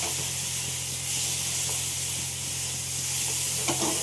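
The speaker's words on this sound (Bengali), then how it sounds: "কম তেলে, বুঝতেই পারছো এই কড়াইটা, এবারে আলুগুলো দিয়ে দিলাম।" Potatoes sizzle in a little oil in a wok, a steady close frying hiss with a low hum underneath and a few light clinks of stirring near the end.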